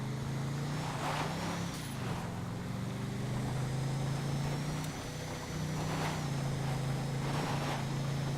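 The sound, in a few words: Invetero Coquette car at full throttle in GTA Online video game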